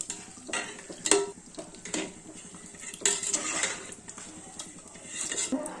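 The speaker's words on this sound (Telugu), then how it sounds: "ఇప్పుడు ఒకసారి కలుపుకుందాం." Spoon scraping and clanking through a pan of dry-style potato beef curry, with stirring strokes in irregular bursts, close and fairly loud, no talking.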